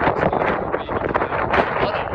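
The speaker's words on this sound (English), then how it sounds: "What a windy day, dude." Strong wind gusting and buffeting the microphone on a blustery farm day, a steady loud roar with surges, outdoors near an overturned calf hutch.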